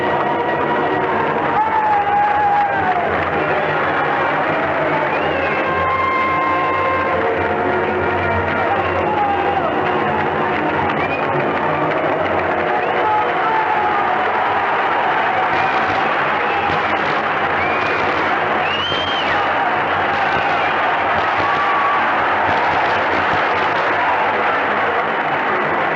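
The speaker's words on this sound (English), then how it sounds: "The crowd can tell you more than we can about the excitement, crowd talking it up." A packed arena crowd at a 1973 NBA playoff game between the Bullets and the Knicks roars steadily, with continuous loud cheering and applause and a dense wash of voices throughout.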